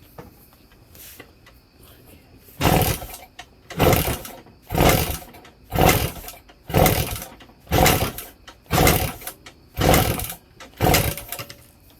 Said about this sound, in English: We just crack back the throttle and kick it.